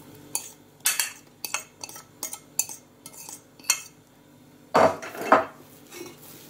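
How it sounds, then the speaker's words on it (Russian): Fork mashing cottage cheese in a bowl, a quick series of close metallic clinks and scrapes against the dish, with two heavier scraping strokes toward the end. "И разомнем его немножко вилочкой."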